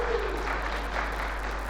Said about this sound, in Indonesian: Tepuk tangan gak apa-apa.